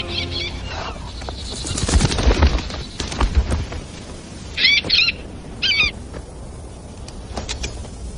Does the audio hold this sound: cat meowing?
no